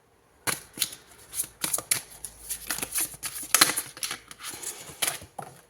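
Tarot cards shuffled by hand in a quiet room, a run of crisp riffling bursts and soft flicks in an uneven rhythm, close and fairly faint.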